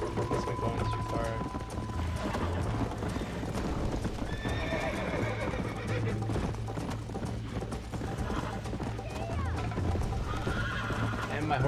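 Rhythmic hoofbeats clip-clop steadily with a couple of sharp horse whinnies, layered over faint mechanical clicking and a low background hum; a voice talks intermittently. The horse is in the video game Red Dead Redemption, during a horse race.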